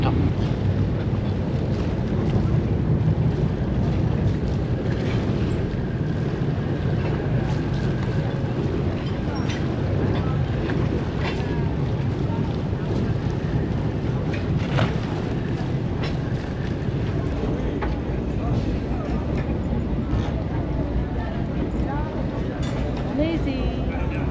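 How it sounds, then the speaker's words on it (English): A tour boat motors across open water around Capri with steady engine hum, wind buffeting the microphone and splashing waves; people talk intermittently over the noise. "the information for you is about a boat tour in Capri around the island"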